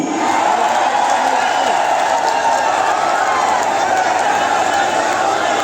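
A large rally crowd at Saroda near Bhubaneswar cheers and claps for Amit Shah in a dense, continuous roar that holds steady throughout, loud and close, with no single voice standing out.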